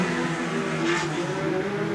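Speedcars racing on a circuit, engines droning together at a steady high pitch with a brief louder swell as cars pass, continuous and fairly close.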